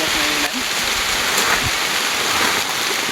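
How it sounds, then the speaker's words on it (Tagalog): Steady rain falls on a mountain while rice cooks for supper, a dense even hiss of drops with faint voices talking underneath. "Na umuulan na."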